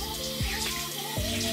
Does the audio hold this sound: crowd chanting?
no